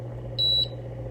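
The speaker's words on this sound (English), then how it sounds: "it's going to turn green and it's going to beep and let me know it's ready" A Minc foil machine beeps once it has heated and is ready: a single clear electronic tone lasting about a quarter second, heard up close over a steady low hum.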